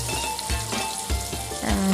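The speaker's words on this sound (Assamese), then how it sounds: "মাছখিনি ভাজি ল'লোঁ।" Fish frying in a pan for an elephant apple fish curry, a continuous close sizzle with a few soft stirring knocks at intervals.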